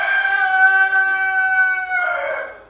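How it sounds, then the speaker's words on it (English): One hen in a poultry barn gives a loud, drawn-out tonal call close by, held for about two seconds before breaking into a rougher squawk, with no talk over it. "these hens over here are really enjoying their cornflakes"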